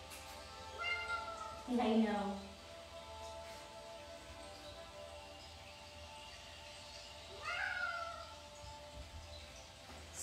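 A house cat meows twice during an indoor chair yoga class: a drawn-out, rising-and-falling cry near the start and a shorter, fainter one later, with an instructor's voice talking over the room.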